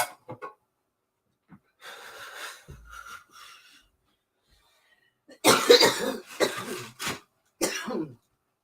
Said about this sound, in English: Got a cough to get off.